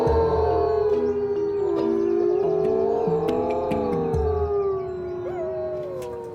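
Several wolves at an animal park howl together in long, rising and falling wails that overlap and hold steady, joining an alarm siren, loud and sustained throughout with a faint siren-like tone underneath.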